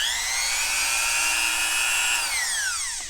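A Hardell rotary tool runs at a steady high-pitched whine that holds and then drops in speed near the end. It is loud and close, with no voices.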